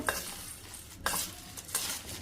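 Bhel being mixed with sev and papdi in a bowl, giving three short bursts of dry crunchy stirring and rustling, close and fairly quiet, with no talking.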